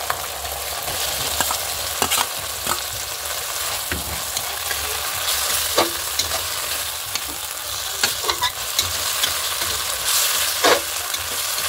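Fried paneer pieces go into a thick, oil-glossed mustard masala in a pan, giving a steady loud sizzle with sharp scraping stirs of a spatula throughout, and no voices.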